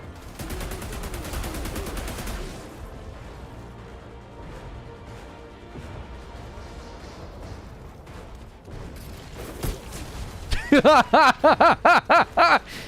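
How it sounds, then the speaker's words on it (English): Rapid burst of weapon salvo fire from a Technomancer in the Outriders demo, a dense cluster of loud, sharp shots near the end after a stretch of quieter game sounds. "That salvo is awesome."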